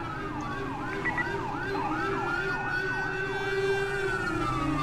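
A Howler police siren on a cop car in GTA 5 FiveM roleplay wails loudly in fast, repeated rising and falling sweeps, then settles into a steadier sustained tone, with a road engine rumbling underneath.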